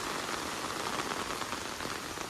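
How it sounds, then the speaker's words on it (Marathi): Steady monsoon rain pattering on a hard surface, a dense, even hiss of drops with no voices. "पाऊस परत येलो हो बघा नशीब छत्री घेऊन येलं"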